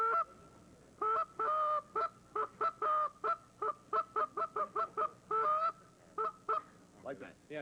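A goose honks repeatedly at an outdoor sportsman's show, the calls coming as a rapid series of nasal blasts, some short and some drawn out. They are close and clear over a quiet background.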